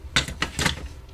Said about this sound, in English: get our clippers, clip everything loose